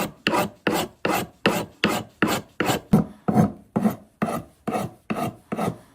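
Hand tool shaving wood in a steady series of about thirteen rhythmic rasping strokes, each a short scraping rub followed by a pause, close and clear with no talk.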